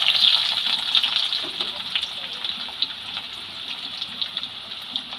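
Sliced onion and whole garlic cloves frying in hot oil with dried chillies, a steady bright sizzle and crackle that holds throughout, a little louder at the start, with no talking over it.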